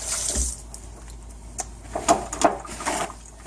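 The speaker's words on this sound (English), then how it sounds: "So I'm just going to give my hands a quick wash." Hands are washed under a running tap, with steady splashing water and brief louder splashes as the hands move through the stream, close by.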